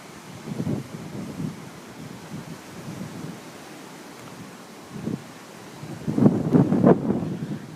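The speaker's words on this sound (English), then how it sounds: "The weather is really windy today." Strong wind buffets the microphone in deep rumbling gusts, easing off in the middle and then surging hard again near the end.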